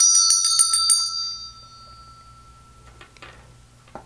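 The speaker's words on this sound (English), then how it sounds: "I gotta ring the bell." A small metal bell is rung during a tarot reading, with several quick bright strikes in the first second that then fade into a long ringing tone, followed by quiet room sound.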